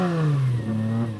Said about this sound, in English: a Lancia Stratos, the ultimate Group 4 rally car from the 1970s. This has the V6 from the Ferrari Dino